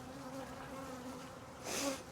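Honeybees from a weak hive hum in a steady, dense drone close by, the buzz swelling louder for a moment near the end as bees pass near.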